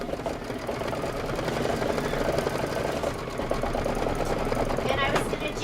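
An embroidery machine stitching out a quilted table topper design, a steady rapid mechanical needle chatter that runs continuously and fairly close, with a voice talking over it.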